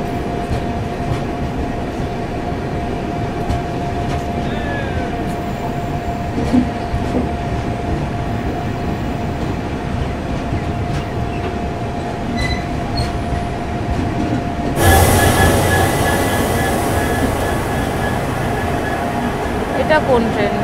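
Train noise at Rangiya Junction station: a continuous rumbling drone with a steady tone and faint wheel squeals, close and loud, swelling to a louder rush near the end, with people talking nearby.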